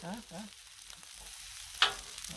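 Shrimp fried rice sizzles on a Blackstone griddle in a faint, steady hiss under brief talking, with a single sharp scrape of a spatula near the end.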